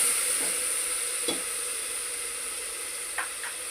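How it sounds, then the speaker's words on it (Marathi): A paste of ground ginger, garlic, chili, cumin, coriander and mint sautés in a pan for a green vegetable pulao, giving a soft steady sizzle broken by a few light stirring scrapes. "आपण वाटून परतून घेऊया आता चांगले दोन मिनटं"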